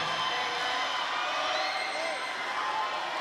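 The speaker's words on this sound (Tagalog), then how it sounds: "Ito, napakalakas ng hiyawan." The crowd at a men's volleyball Final Four match in an arena, Arellano vs. Mapúa, keeps up a loud, sustained roar of cheering with whoops that stays at a steady level throughout.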